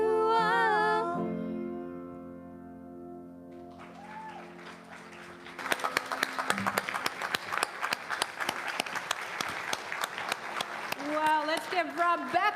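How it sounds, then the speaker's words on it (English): Audience applause at a church service after a woman named Rebecca sings, building from sustained singing and music into a broad wash of clapping that continues steadily to the end, with voices rising over it near the close. "let's give Rebecca a round of applause"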